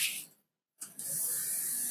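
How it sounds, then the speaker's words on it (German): A hand-pump dew-bell sprayer mists organic liquid over potted plants in a short hissing burst, then a brief pause and another longer, steady close-up spray. "Die Tauglocke kommt hier in den Topf und dann fangen wir an zu sprühen."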